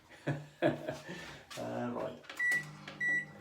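A kitchen microwave oven starts up with a door clunk and short beeps, then hums faintly in a home kitchen while someone talks nearby.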